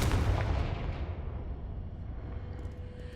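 The Confringo blast spell from the video game Hogwarts Legacy goes off as one booming explosion. It is loud at first, then rumbles and fades into a long decaying tail.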